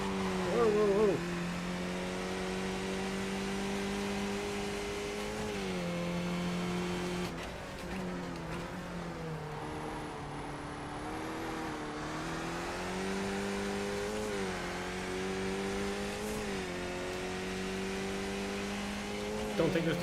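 A racing car in a sim race at Tsukuba drones through sustained engine revs, pitch climbing and dipping with gear changes and throttle lifts, steady and prominent from start to finish.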